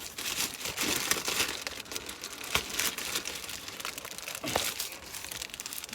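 Plastic packaging crinkling and crackling steadily as it is peeled off a Gelatinous Cube product, close up, with a few sharper crunches among the continuous rustle.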